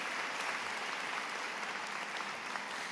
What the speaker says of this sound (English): A warm round of applause for our UCS administrators throughout the arena.